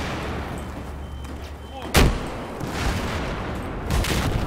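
A frag grenade goes off in the Battlefield 4 single-player campaign, one sharp loud blast standing out from steady combat rumble, followed seconds later by a second, smaller burst of gunfire or explosion noise.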